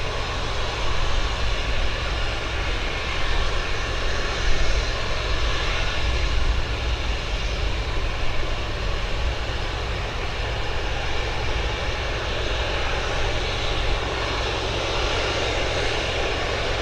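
A WB-57 tracking aircraft, a former bomber, drones steadily with a dense, unchanging engine roar that stays loud and constant throughout, with no voices.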